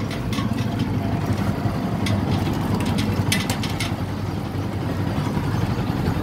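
A running engine fitted with a three-phase stator idles steadily, a loud, even, continuous low rumble with no pauses and no one talking.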